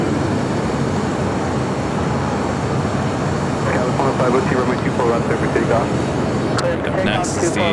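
Jet airliner rolling for takeoff on runway 24 left at LAX, a steady broad engine roar that swells slightly toward the end, with radio-style voices talking over it.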